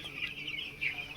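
Broiler chickens on a chicken farm clucking and calling, a dense overlapping flock chatter that is steady and moderately loud, with no talk.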